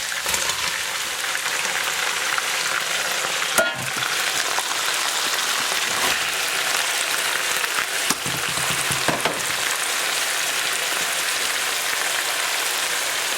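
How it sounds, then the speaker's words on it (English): Pieces of lamb and onions fry in a pan for a roasted mutton curry, a dense, steady crackling sizzle like heavy rain with a few louder knocks from the pan. "And then I'll mix it up and allow the onions to fry."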